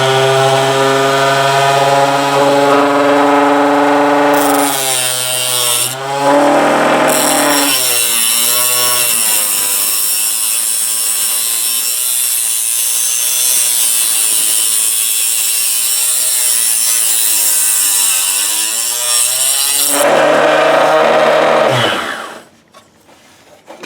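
Power saw cutting brass to trim cases for 300 Blackout rounds, a loud, sustained whining grind with a brief pause and pitch shifts as the blade bites, then spinning down to quiet.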